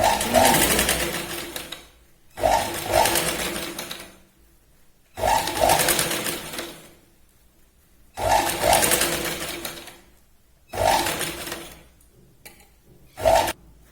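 A sewing machine stitches a Katori blouse in six bursts of steady whirring, each about one to two seconds long, separated by short quiet pauses. The machine is close and loud, with no talk.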